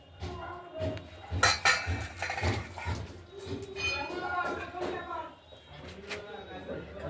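Paneer curry with potatoes, tomatoes and stone-ground spice paste is moved from a pot onto a plate, with a ladle clinking and scraping against metal in scattered close knocks while a person talks.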